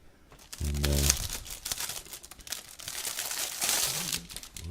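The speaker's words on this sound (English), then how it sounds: "I'm going to open the package in front of you" A plastic package holding a set of paint brushes is torn open up close, with sharp crinkling and rustling of the wrapper that continues throughout, briefly joined by a low hum.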